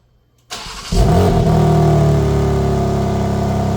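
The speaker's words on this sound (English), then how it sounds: "let's see what the car sounds like now with its stock exhaust" A 2025 BMW M4 engine with stock exhaust cranks and fires up, settling into a loud, steady, deep idle that rumbles on without a break.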